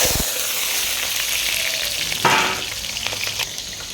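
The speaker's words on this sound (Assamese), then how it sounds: "এইফালে তেল গৰম হৈ গ'ল, এনেকুৱাতে ঢালি দিলোঁ টুকুৰা টুকুৰ পিঁয়াজ।" Chopped onion pieces dropped into hot oil in a home kitchen, a loud steady sizzle and crackle of frying that flares briefly partway through and carries on throughout.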